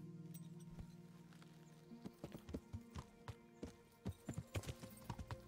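Horse hooves clip-clopping at a steady trot while riding in the medieval game Kingdom Come Deliverance, faint and rhythmic, starting after a low hum and continuing as evenly spaced thuds.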